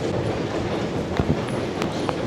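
A deep underground metro train in Batumi running steadily, with a continuous low rumble and occasional faint clicks and squeals.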